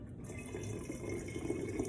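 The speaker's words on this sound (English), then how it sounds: "I'm not going to pour this whole bottle in there" Nue vodka streams from a bottle into a container for a pineapple and jalapeño infusion, a steady, quiet, continuous liquid pour with no talking.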